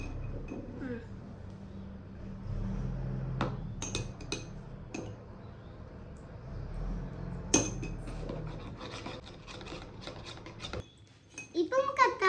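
Beetroot face pack being mixed in a bowl, irregular clinks and taps of a spoon against the dish, spaced out at first and growing busier, with a voice speaking in places.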